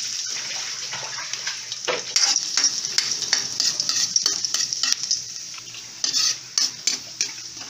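Garlic sautéing in oil for a Filipino ampalaya stir-fry with mung bean sprouts, a steady close sizzle with frequent clinks and scrapes of a utensil stirring in the pan.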